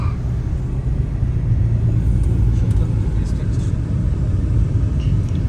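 Steady low road and engine rumble from a car being driven abroad, heard continuously from inside the cabin at a constant level, with faint murmuring voices in the background.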